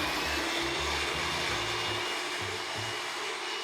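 A JSW multi-functional hand mixer runs steadily, a loud continuous motor whir with low pulsing hum, no voices.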